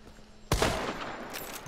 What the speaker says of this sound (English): I hear some shooting, hear some fighting